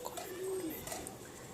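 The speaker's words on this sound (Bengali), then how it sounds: "কেমন লাইনের ম্যাড্রাস পায়রা আছে।" A Madras pigeon gives a single soft, low coo, quiet and fairly close, against faint background noise with no talk.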